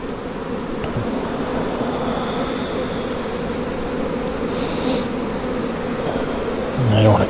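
Honey bees in an open hive during an inspection, with frames holding cells being backfilled with nectar: a steady, dense, close buzzing drone that swells slightly toward the end.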